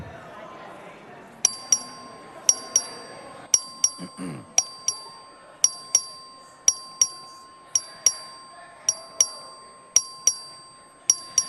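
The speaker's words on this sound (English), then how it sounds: "The clerk will ring the bell." A voting bell in the Texas House of Representatives chamber strikes repeatedly at a steady rhythm, each bright clear ding ringing out over a quiet room with faint murmuring in the background.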